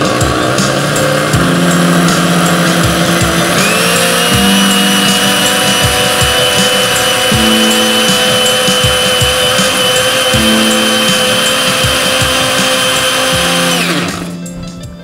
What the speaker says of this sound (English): And you're going to want to puree it for quite a few seconds, as like I said, the skin on this particular type of chili pepper is a bit tough.